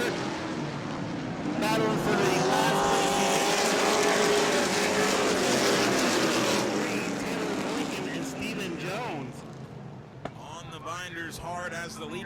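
Short-track race cars roar side by side at Auburndale's weekly races, engines droning loudly and steadily with rising and falling pitch as they pass, while a commentator talks over the racing.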